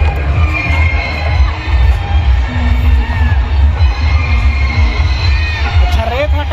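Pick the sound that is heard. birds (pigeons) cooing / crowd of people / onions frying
crowd of people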